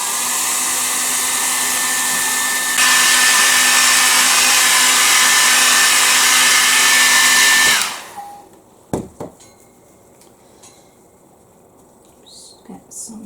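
A hair dryer blows steadily and loudly for about eight seconds, drying paint on a gel printing plate, then cuts out, leaving quiet handling noises and small knocks.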